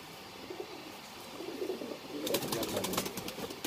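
Deobandi pigeon giving soft, low coos near at hand over a quiet background, joined in the later part by a burst of brighter flutter or chirping.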